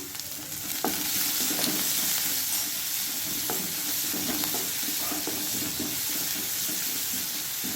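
Onions sautéing in a pan for a mushroom pepper fry, a steady close sizzle with intermittent stirring scrapes and clicks running throughout, no voices.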